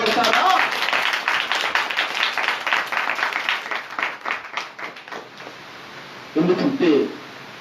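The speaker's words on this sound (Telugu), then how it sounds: "చప్పట్లు కొడతారా?" A church congregation claps together in dense, rapid applause that gradually thins out, with a short burst of talk near the end.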